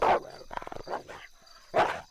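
A threatening dog bark for a horror radio drama: two loud, close bursts at the start and end with softer growling, snarling sounds between.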